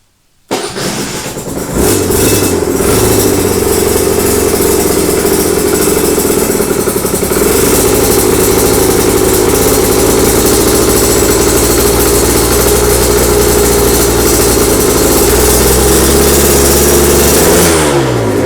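Full-power 2011 Aprilia RS125 two-stroke motorcycle starting with a little choke, firing after a brief cranking moment and then settling into a loud, steady, buzzing idle that holds close-up and alone for the rest of the stretch.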